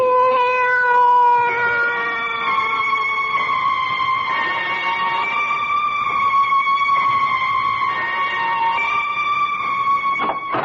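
A cat meowing in long, drawn-out, wailing cries, loud and close, with sustained tonal yowls that waver and overlap with no pauses.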